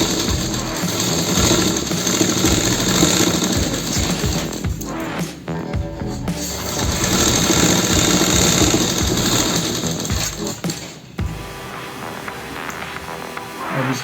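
A sewing machine stitches the seam of a plazo: a loud, steady mechanical whir and rapid needle clatter running continuously, with two brief pauses before it starts again.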